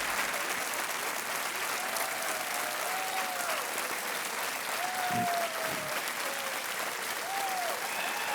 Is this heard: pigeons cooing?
no